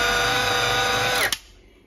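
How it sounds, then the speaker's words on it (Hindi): An electric chopper grinding chicken mince whirs steadily and loudly for over a second, then winds down and stops abruptly, with no talk over it. "जो कीमा है उसको मैं इसमें ग्राइंडर में डाल के ग्राइंड कर रही हूँ"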